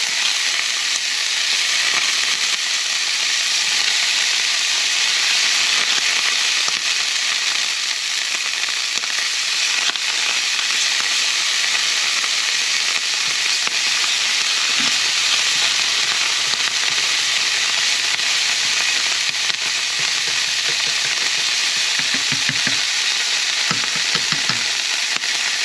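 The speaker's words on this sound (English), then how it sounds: "turn the temperature down a little bit, put some more butter in there" Butter sizzles and fries steadily in a hot cast iron pan on turned-down heat, a dense continuous crackle throughout with occasional faint clinks, no voices.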